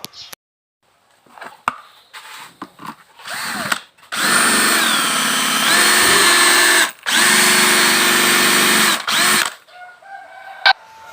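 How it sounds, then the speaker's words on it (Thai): A power drill bores into the side of a Bluetooth speaker box, whining in two loud sustained bursts of several seconds each, with quieter handling clicks before and after and a rooster crowing faintly in the background. "เจาะรูตรงข้างๆ กล่องครับ"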